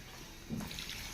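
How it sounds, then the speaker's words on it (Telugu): Water is poured into a Nellore-style brinjal vadi fish curry mixture, giving a short, soft trickle and splash that swells briefly midway before settling, close to the pan with no talk. "ఇందులో ఇప్పుడు వాటర్ వేసుకుందాం."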